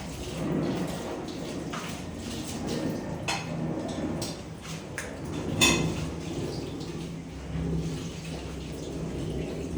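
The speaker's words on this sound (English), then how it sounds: "Then finally, I'm going to add the potatoes." Potatoes tipped into a pot of meat pie filling in a home kitchen, heard as a busy clatter of light knocks, scrapes and clinks against cookware, steady and close, with a few sharper taps standing out.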